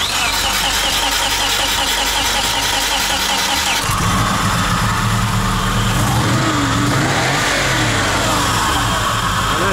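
A Subaru car engine cranks on the starter with a rapid rhythmic whir, then catches at about four seconds and roars up into loud revving before settling, close and loud, no talking.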